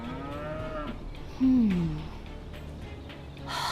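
Cattle moo nearby, a couple of long, low lowing calls, one louder and closer than the rest, against quiet outdoor background noise.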